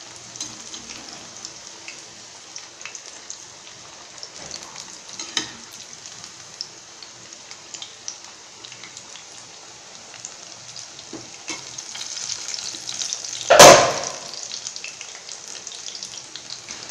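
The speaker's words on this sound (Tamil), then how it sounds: "கொஞ்சம் கோல்டன் கலரில் வறுத்து பாருங்கள்" Masala vadai deep fry in hot oil with a soft, continuous sizzle and crackle, and one sharp burst of spattering louder than the rest toward the end.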